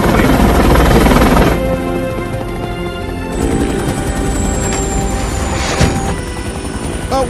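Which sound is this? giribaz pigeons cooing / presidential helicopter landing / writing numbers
presidential helicopter landing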